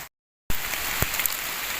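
Steady rain falls in a forest during mushroom picking, a dense even hiss of drops on leaves and ground after a brief silence, with a single sharper drop standing out partway through.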